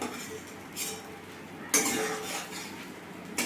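Egg-coated young jackfruit pieces frying in a pan, a soft steady sizzle with metal utensil clinks and scrapes against the pan, one louder clatter midway, close and moderately quiet.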